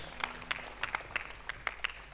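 Church congregation clapping for Jesus during a fasting and prayer service, a steady beat of about eight sharp claps in two seconds at moderate loudness, with no voices.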